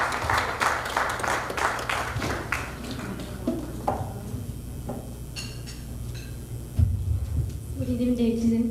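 Audience applause at an event, a burst of clapping that thins out after a few seconds into scattered claps, followed by a voice beginning to speak near the end.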